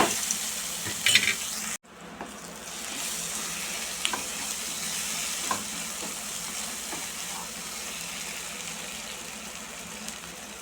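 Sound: spice tempering sizzling in oil

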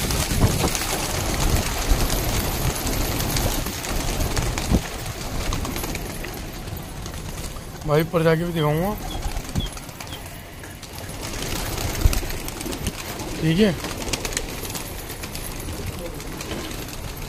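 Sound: released pigeons flying and cooing

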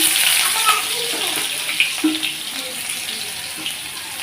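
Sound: garlic added to hot oil in a kadai, sizzling

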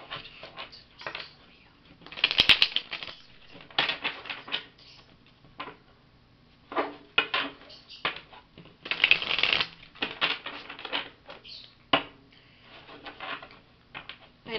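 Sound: shuffling tarot cards

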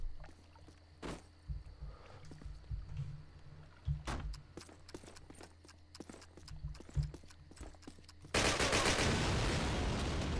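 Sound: gunfire from shooting in the video game Call of Duty

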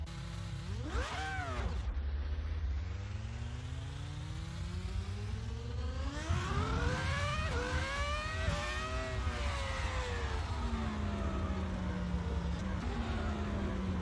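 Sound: racing car engine in a video game

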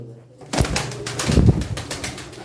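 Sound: pigeons cooing

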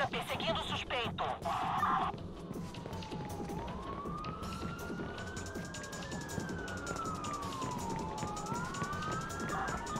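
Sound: police car siren during a chase in the Watch Dogs video game

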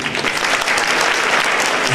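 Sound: audience applause greeting university teaching staff

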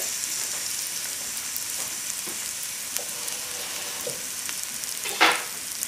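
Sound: garlic and onions frying in a pan for tilapia Lyonnaise

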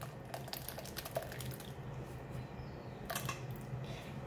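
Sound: tamarind water poured through a strainer, dripping

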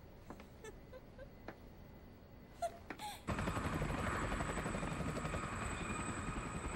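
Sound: helicopter in the Kizumonogatari anime film

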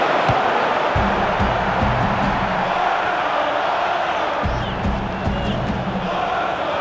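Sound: stadium crowd cheering in video game FIFA 06

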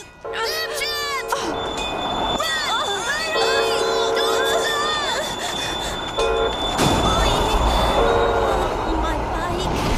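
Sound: train passing

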